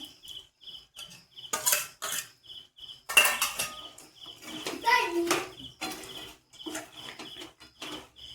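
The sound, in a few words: mixing fried paneer with sesame in a pan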